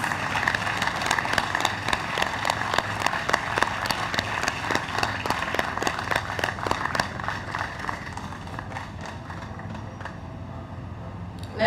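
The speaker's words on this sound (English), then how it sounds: "Let the applause continue." Sustained applause for nurses being honoured at a vaccination week launch ceremony, steady dense clapping from a crowd that fills the whole stretch and thins slightly toward the end.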